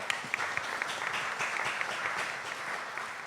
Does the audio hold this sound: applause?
yes